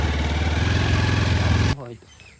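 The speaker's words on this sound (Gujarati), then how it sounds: "બાઇક પણ સ્ટાર્ટ થઈ ગયું" Motorcycle engine running steadily with a throbbing idle, loud and close, then cutting off abruptly near the end, leaving quieter background sound.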